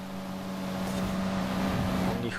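A car engine in the racing game Forza Horizon 5 produces a steady droning hum with a rising growl near the end, holding at moderate loudness without any talk.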